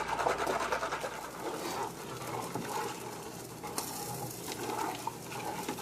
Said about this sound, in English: we're going to mix these through each other just until the salt dissolves